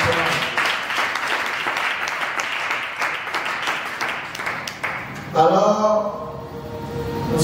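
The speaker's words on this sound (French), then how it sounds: "Alors donne une acclamation au Seigneur ce soir." A church congregation claps and cheers steadily for several seconds in a reverberant hall, then the applause gives way to a few raised voices and music.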